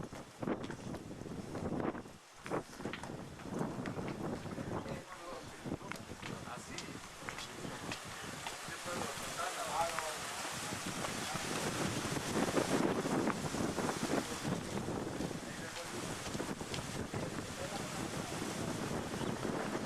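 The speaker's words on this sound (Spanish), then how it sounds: "Más de 1 hora dura el trayecto en barco." A boat crossing the Sea of Galilee gives a steady, loud rush of wind and water that runs through the whole stretch, with voices talking intermittently over it.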